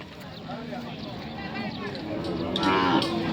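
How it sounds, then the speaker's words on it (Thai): Water buffalo low at a Thai cattle market among cows and livestock, a drawn-out bellow rising under steady crowd chatter and market noise. "มีควายสองตัว"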